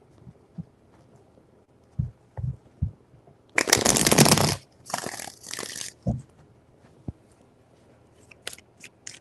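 Tarot cards are shuffled close up, a sustained papery riffle lasting about a second followed by a shorter second riffle, with scattered taps and soft card handling around them.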